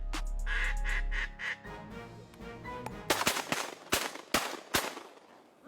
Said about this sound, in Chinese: 这是一场狩猎野鸭的活动。